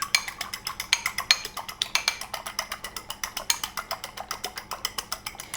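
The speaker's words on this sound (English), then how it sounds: "I'm going to give this a whisk." A whisk rapidly beats a mixture of ricotta cheese and turnip greens in a bowl, giving a steady train of close, bright clicking scrapes, roughly five strokes per second, with no talking.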